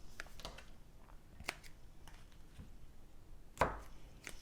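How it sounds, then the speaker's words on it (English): Scissors snip the long tails of a knot, a few faint cuts followed by one crisp, louder snip, close by with no talk. "Those tails are a bit long, so let's trim those."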